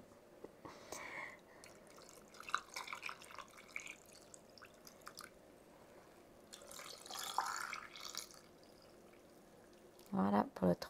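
Tomato juice is poured into glass jars for preserving peeled tomatoes, heard as soft liquid pouring and trickling under quiet talk, ending with a few louder glassy clinks.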